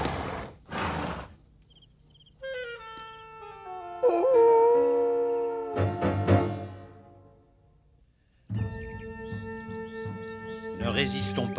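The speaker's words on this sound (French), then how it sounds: "Qu'est-ce que c'est? Des coyotes." Coyotes howling in a cartoon Western scene, long wavering high-pitched cries that rise, hold and fall, coming in repeated bursts between short noisy gaps, loud and prominent.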